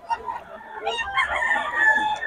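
Pumpkin gamefowl rooster, two years old, crowing loudly and close at a gamefowl sellers' market in Bocaue, one long drawn-out crow with faint clucks and murmuring crowd noise around it.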